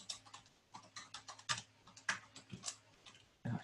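Rapid keystrokes clatter on a computer keyboard in short irregular bursts, fairly quiet and close, ending with one heavier clack.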